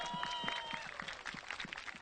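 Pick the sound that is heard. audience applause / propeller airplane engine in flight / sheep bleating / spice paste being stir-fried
audience applause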